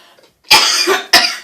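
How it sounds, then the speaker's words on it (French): Two sharp, close coughs from a person irritated by burning sage smoke, the first longer and harsher, the second a short follow-up burst. "ça me fait tousser"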